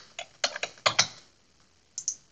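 A handful of crisp keystrokes on a computer keyboard, tapped close up in short uneven clusters with brief gaps between, alone in a quiet room.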